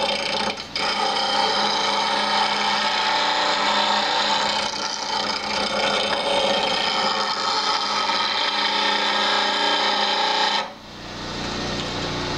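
A bowl gouge rough-turns a wooden bowl on a lathe, giving a steady, loud scraping hiss of wood cutting that runs almost continuously before cutting off abruptly near the end.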